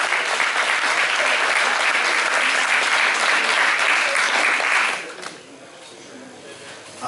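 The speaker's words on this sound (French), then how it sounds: "On les applaudit bien fort." A crowd at a cosplay contest in Dijon applauds a group taking the stage, loud dense clapping that holds steady for about five seconds and then drops away abruptly, leaving quiet room noise.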